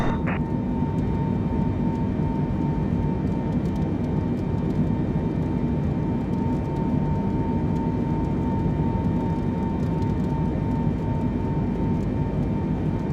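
A Boeing 747 in Microsoft Flight Simulator 2020 gives off a loud, steady engine drone that holds unbroken from start to finish, with no voices over it.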